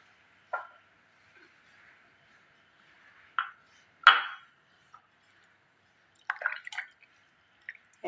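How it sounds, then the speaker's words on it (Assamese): Pitha dough for a biscuit-style Assamese treat being mixed by hand, giving a few soft, wet squishing and pressing sounds spaced out with quiet gaps between them. "এতিয়া হাতেৰে মই গোটেইখিনি ভালদৰে মিলাই ল'ম।"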